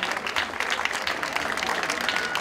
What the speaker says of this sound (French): vous saurez applaudir la victoire de Chiquita Elle et de Toximal